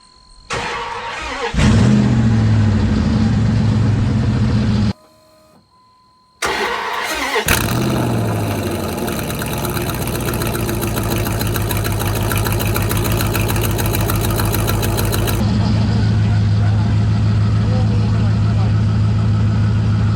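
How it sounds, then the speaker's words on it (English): An old truck, parked for five years and running on a quarter tank of five-year-old fuel, cranks briefly and stops, then cranks again, fires up and settles into a steady, loud, rumbling idle. "5-year-old fuel that the truck just fired up on like absolutely nothing"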